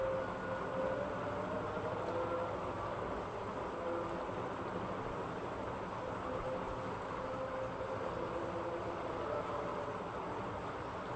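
Inside a moving metro rail train carriage, a steady, even rumble and hiss of the ride fills the whole stretch at moderate level, with faint tonal whine and no talk.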